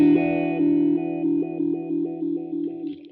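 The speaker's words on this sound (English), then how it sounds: "Humanizer allows you to set the vowel sounds to your human vocal style wah." Boss Katana MKII amp's Humanizer vocal-style wah effect on electric guitar: a sustained distorted note throbs with a steady vowel-like rhythmic pulsing, about two cycles per second, loud and alone before fading out.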